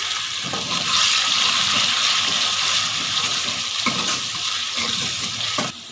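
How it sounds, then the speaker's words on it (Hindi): Water is poured into a pan of onion and garlic fried golden brown, giving a steady loud hiss and sizzle that holds for several seconds before cutting off. "थोड़ा सा पानी शामिल करेंगे हम इसके अंदर।"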